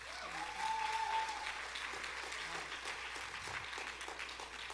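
An audience claps steadily at a moderate distance, a diffuse wash of applause that holds evenly across the whole stretch.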